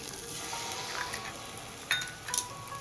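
An egg cracked into a kadai of cooked-down masala for egg tadka, sizzling at a low, steady level with a couple of short clinks as it is stirred, no voices.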